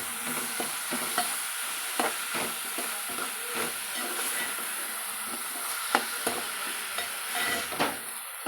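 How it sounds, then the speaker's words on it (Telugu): Moong dal and ridge gourd being stirred together in a pan, with a soft continuous sizzle and repeated spoon scrapes and taps at an irregular rhythm, close and moderately quiet with no voices. "ఒకసారి ఈ పప్పును కూడా మనం కలుపుకుందాం"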